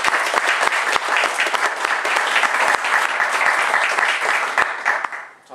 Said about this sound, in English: Well, shall we applaud first?